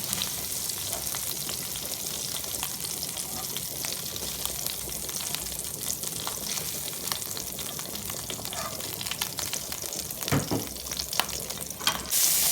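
Kefta fries in a pan for spaghetti with a dense, constant sizzling crackle, close and steady throughout, with a few louder clinks and scrapes near the end.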